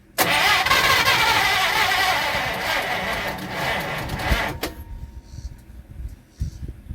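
A Chieftain engine cranks and catches, running loud and rough for several seconds before cutting off abruptly, leaving a quiet background with faint knocks.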